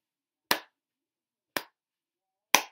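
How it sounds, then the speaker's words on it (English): Three sharp, isolated hand claps ring out about a second apart, each crisp and close with a quick decay and silence between. "you can try clapping your hands like this"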